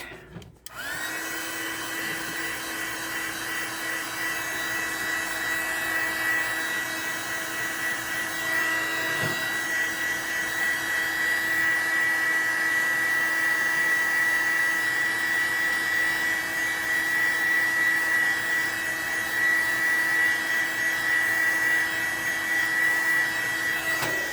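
A hair dryer blows steadily on freshly poured epoxy resin gingerbread man ornaments, a loud continuous whirring drone that starts abruptly and holds almost unchanged to the end, with no talking.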